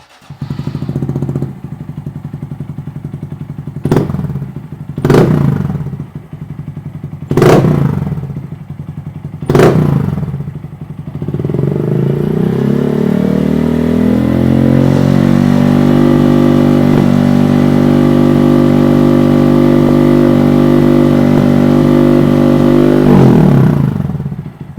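A Honda Monkey motorcycle with a loud aftermarket exhaust fires with several sharp thuds and revs, then settles into a deep, steady rumbling idle close by.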